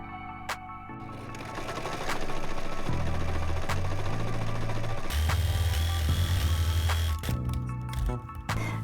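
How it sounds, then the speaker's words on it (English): A sewing machine runs in bursts while stitching a strip of fabric onto a child's T-shirt neckline, its motor humming and whirring close up, speeding up and slowing between short pauses. "this rectangle of fabric I'm going to sew on the neckline right on the edge"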